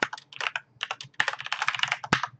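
Fast keystrokes on a computer keyboard come in two quick bursts with a short pause between, close and clear, ending on a firmer key press, with no voices.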